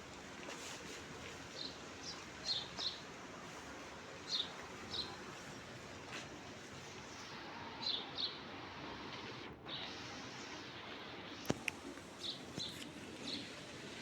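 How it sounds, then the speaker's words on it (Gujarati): Scattered chirps and short calls from birds among the trees of an ashram, faint and spaced out over a soft, quiet background. "આશ્રમમાં અનેક વૃક્ષો લહેરાય છે અત્યારે, અને કેટલાય પક્ષીઓ"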